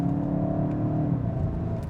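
A 2022 Volkswagen Golf GTI Mk8 is driven hard through corners, giving a steady, close engine drone with low rumble and a whirring road hum that holds even for about two seconds.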